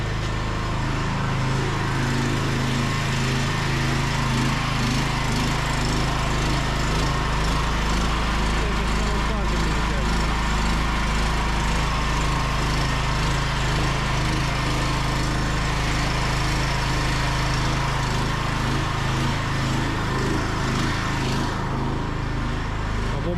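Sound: petrol generator running to charge Deye inverter batteries

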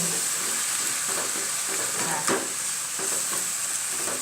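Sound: stir-frying vegetables with pork and shrimp in a pan

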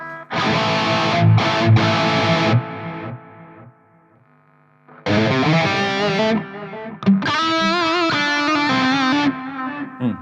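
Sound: guitar solo through distortion, delay and reverb effects

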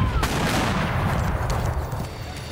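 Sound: cannon fire in a Mexican War documentary

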